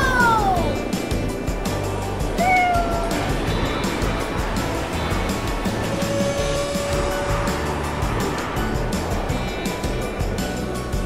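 Cat meowing amid a busy toy or play scene with kids and a fire truck rescue, several short rising-falling meows standing out over continuous background noise and clutter.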